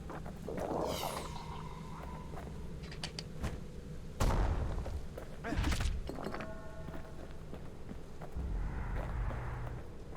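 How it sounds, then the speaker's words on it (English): In the video game Bastion, a mortar fires and its shells explode in a few heavy thumping bursts spread over several seconds, mixed with other game effects and a voice speaking. "The mortar is a bit overpowered."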